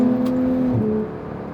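Porsche GT3 engine droning steadily while driving, heard from inside the car as a loud, sustained hum that eases off slightly partway through.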